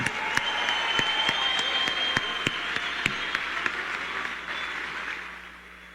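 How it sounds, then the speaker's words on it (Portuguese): A crowd at a political party congress in Paraná applauds steadily, a broad even roar of clapping with sharper individual claps standing out, gradually fading toward the end. "Uma salva de palmas para Arthur Duval"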